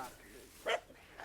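A dog being teased in a village gives one short, fairly faint bark midway, with quiet background voices around it.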